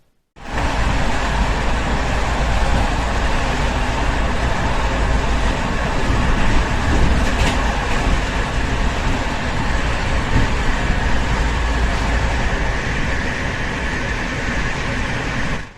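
Steady, loud rumble of a train moving along the rails, with a continuous low roar and rattling carriage noise throughout, no voices.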